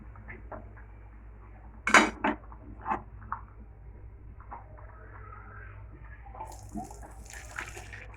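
A metal pot of boiled lentils is lifted off a kitchen stove, giving a couple of sharp metallic clanks and scrapes followed by softer clinks and faint water sounds, close by in a quiet room.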